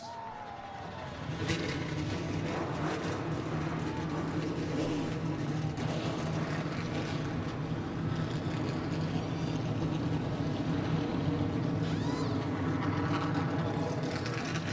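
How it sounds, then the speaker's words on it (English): NASCAR Camping World Truck Series trucks firing their engines at Kentucky Speedway for a night race, a dense, steady roar of many engines rising after a brief quiet start and holding loud throughout. "Drivers, start your engines!"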